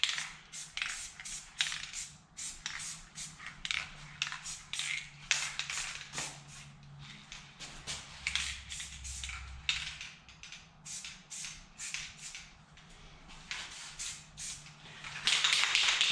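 An aerosol can sprays light coats of paint onto the steering linkage of a 2004 Suzuki LTZ250 ATV, with many short hissing bursts in quick irregular succession, close up, and a faint low hum beneath.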